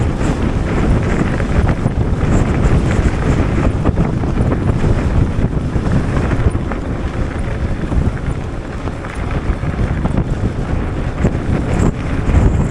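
Strong gusting wind roars across the microphone while riding a Wooken e-bike in bad weather, a loud, continuous rumbling buffet that fills the whole clip.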